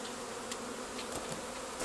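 Honey bees crowd a packed hive frame that holds worker bees and drones, a dense, continuous close buzz with a few louder wingbeats passing nearby, no voices.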